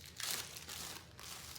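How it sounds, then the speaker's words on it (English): A plastic Ziploc bag gets unrolled, giving quiet, close crinkling and rustling in a few short bursts over under two seconds. "I just unroll the Ziploc right here"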